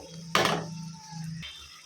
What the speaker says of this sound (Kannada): ಸ್ವಲ್ಪ ನೀರು ಹಾಕೊಳ್ಳೋಣ